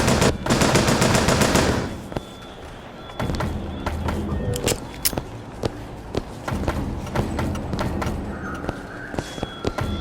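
Bioshock Infinite gameplay gunfire: a dense, loud burst of rapid machine-gun fire opens, followed by scattered sharp shots, thuds and impacts through the rest of the fight.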